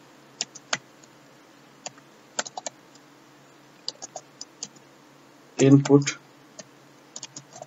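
Code is typed on a computer keyboard in scattered quick clicks and short bursts, close and moderately loud, with a brief spoken word partway through.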